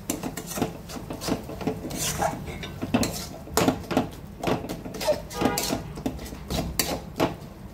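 A spatula stirs and presses onion masala in a pan for Kerala-style crab roast, giving repeated close scraping and rasping strokes in an uneven rhythm, with no talking.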